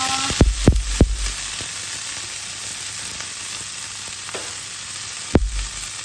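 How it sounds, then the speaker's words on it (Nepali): Gundruk, dried mustard leaves, fries over a low flame in a pan, a steady close sizzle broken by several sharp taps and scrapes of a stirring utensil, with no talking. "अब यो गुन्द्रुकलाई चाहिँ सानो आगो गरेर पहिला भुटौँ"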